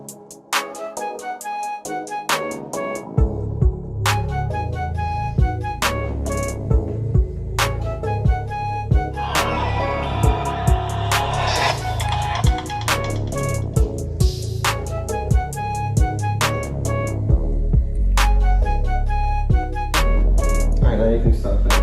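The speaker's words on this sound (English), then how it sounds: "Now what you just heard was the startup intro for the Acer laptop." An Acer Predator Helios 300 (2020) laptop plays its startup intro, a loud, continuous electronic jingle with steady rhythmic beats and repeating bright tones lasting about twenty seconds, with no talking.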